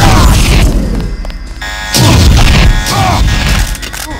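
Gunfire in the Deus Ex game at Vandenberg, with several loud, booming shots and bursts in close succession, punchy impacts spread across a few seconds, alone with no talk.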